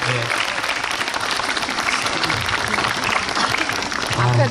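A hall audience at the Suncheon lifelong learning ecology expo applauding all together, dense sustained clapping from a large crowd filling the whole stretch, with a few voices faintly mixed in.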